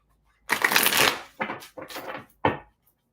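Tarot cards being shuffled by hand: a long riffling burst followed by three shorter shuffles, close and crisp, with quiet gaps between and no talking.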